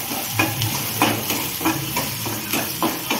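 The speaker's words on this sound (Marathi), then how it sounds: "चांगलं हलवून घ्यायचं" Ginger-garlic paste sizzles in a hot pan and is stirred, with a steady frying hiss and about six rhythmic scraping strokes of the spoon close by.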